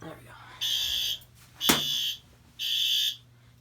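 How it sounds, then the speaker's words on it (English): An electronic smoke alarm, set off with a magnet during a system test, sounds in three loud, shrill beeps, evenly spaced, with a sharp click between the first two. "let's activate that smoke detector with a magnet"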